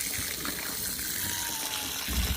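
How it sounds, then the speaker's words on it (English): Water runs steadily from a farm tap as it is being shut off, a continuous hissing gush without a clear cut-off, with no voices over it. "I'll start by toggling the water off"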